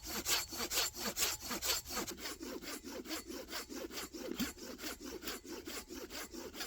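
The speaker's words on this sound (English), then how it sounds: "It's Japanese style pull saw. It cuts on the pull, you see." A Japanese-style pull saw cuts through wood in a steady, rhythmic series of rasping strokes, about two per second, close and continuous, with no talking.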